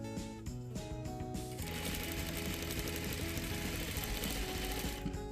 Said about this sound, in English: Now we're going to stitch to the other side.